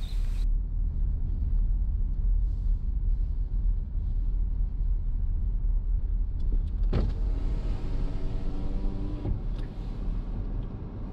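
Car driving along a foggy mountain road, a steady low engine and road rumble running throughout at close range, with a brief harder knock and rattle near the end.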